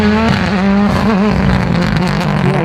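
Rally cars start the first stage of the Ephraim Memorial Toyota Harlech Rally, a loud, close engine revving and rising in pitch through several gear changes as a car pulls away, with a continuous throaty roar.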